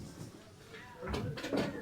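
A sliding cabinet door is pushed open during a household estate sale, giving a short scraping rumble and a couple of soft knocks. The sound is quiet and close, following a near-silent start.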